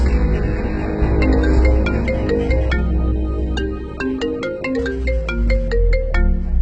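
A mobile phone rings with an incoming call from mother, its melodic ringtone loud and steady, repeating phrase after phrase for several seconds with no voices over it.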